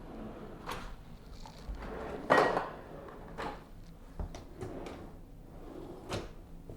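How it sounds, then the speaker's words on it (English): Deep kitchen drawers roll open and shut in a newly fitted kitchen, a series of soft slides and knocks with one sharper thud midway, close by and quiet. "nice deep drawers all the way through."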